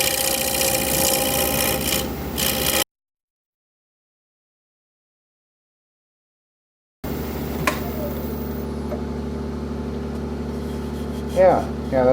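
A 5/8 inch bowl gouge on a wood lathe rounds over the edge of a square four-legged bowl, giving a steady, loud rasping cut that stops abruptly for a few seconds of silence and then resumes.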